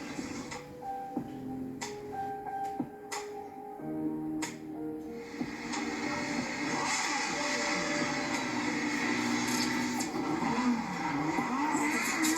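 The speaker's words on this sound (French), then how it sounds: "les voitures s'élancent pleine balle" Race cars launch at full throttle up a hill climb course, their engines revving with rising and falling tones and sharp ticking transients, the roar swelling and holding loud in the second half.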